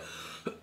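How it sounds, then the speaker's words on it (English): A single short throat clear near the end of a quiet pause at a retro games shop, a small grunt followed by a louder, harsher burst close to the mic. "Can clear my throat."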